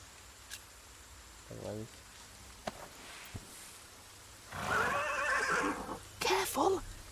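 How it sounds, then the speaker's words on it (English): A horse in The Pillars of the Earth video game snorts and whinnies at night amid soft rain, with a short vocal burst early, then a louder drawn-out neigh and a final whinny near the end. "The horse nearly woke the guard."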